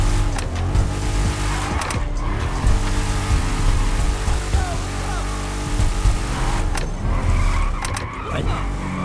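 A Honda NC700 motorcycle engine in the video game GTA V gives a loud, steady drone that runs the full length of the clip, swelling briefly at moments, with a voice faintly underneath.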